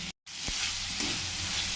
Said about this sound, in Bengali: এরপরে এতে কেটে রাখা আলু, গাজর আর কাঁচা লঙ্কা এগুলো একসঙ্গে দিয়ে নেড়ে নিচ্ছি